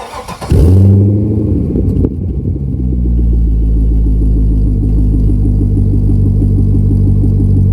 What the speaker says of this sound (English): here we are on the first drive together in the 2005 Corvette